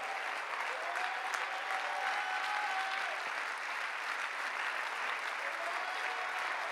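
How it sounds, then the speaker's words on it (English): Church congregation clapping hands together in steady, sustained applause during a worship service, a dense even wash of claps that stays at the same level throughout with no speech over it. "Would you clap your hands to the Lord?"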